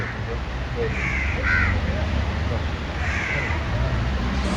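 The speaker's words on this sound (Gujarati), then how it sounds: "જો કાગડાની લાઈન" Crows caw a few times at mid-distance over steady monsoon rain in Mumbai, the harsh calls rising briefly above a constant wash of rainfall and low background noise.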